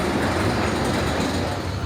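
The Diamondback roller coaster at Kings Island on Halloween Haunt opening night, its train climbing the lift hill with a steady rumbling clatter. Continuous mechanical rail noise heard from nearby, with no talk in the moment.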